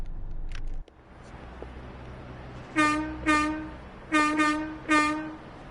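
Train in Train Sim World 6 on the Riviera Line: after a low rumble cuts out, four loud, close horn blasts sound in two pairs, each a sustained harmonic tone.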